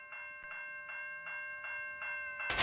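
A model Union Pacific Challenger train runs along its track, its steady hum broken by a regular clicking rhythm of wheels over rail joints, ending with a brief louder burst.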